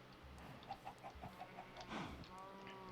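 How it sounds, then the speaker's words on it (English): Chickens cluck in Minecraft during a bunker survival playthrough, a quick run of short, evenly spaced clucks at moderate level over a steady background hum, with a brief chirpier call near the end. "Our blood chicken is done breeding up."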